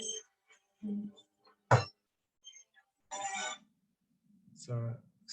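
A telephone rings in short, separated bursts, loud and close, with a voice speaking in the pauses between rings.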